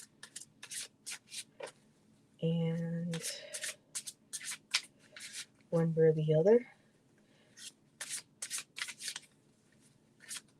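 Quick bursts of oracle cards being shuffled, riffled and rubbed together up close, broken by pauses and a couple of brief tonal sounds, with a voice speaking in between.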